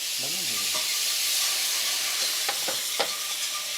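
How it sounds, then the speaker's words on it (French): A hot pan deglazed with orange juice hisses and sizzles steadily and loudly, a bright steamy roar that never lets up, with a few faint clinks and a brief murmur of voices underneath. "Donc, on va déglacer au jus d'orange."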